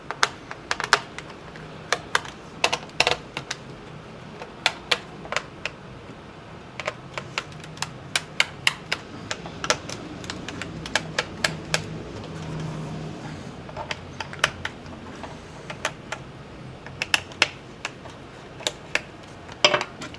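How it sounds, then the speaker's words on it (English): A laptop's underside cover is pried off by hand, giving a run of sharp, irregular plastic clicks and snaps close by over a faint low hum, with no talking. "Just take this cover off. This cover probably covers the CPU, RAM, and wireless card."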